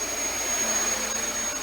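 A Dyson DC33 upright vacuum cleaner runs on carpet with a steady, loud, high whirring roar that holds without a break and has no talk over it.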